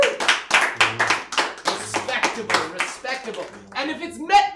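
Audience at a live show clapping to vote for a contestant: loud, close, rhythmic bursts of claps in quick succession, mixed with voices and shouts throughout.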